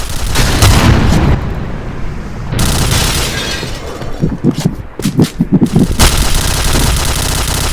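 Gunfire in a video game: dense, loud bursts of shooting and booms, with a stretch of rapid stuttering shots near the end and a continuous roar of game noise throughout.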